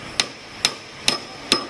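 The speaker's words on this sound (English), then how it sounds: "If you started the nails deep enough, it should take you only 3 or 4 hits to get it in." Four evenly spaced hammer strikes drive nails into a wooden memo holder, each a sharp, loud, close knock with a brief ring, about half a second apart with quiet between.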